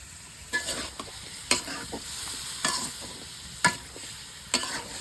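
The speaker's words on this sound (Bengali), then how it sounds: "মাংসটা একটু ভেজে নেব" Chicken pieces fry in a pan with oil, salt, chili and turmeric powder, a steady soft sizzle punctuated by about five sharp spatula scrapes and taps at irregular intervals, close by.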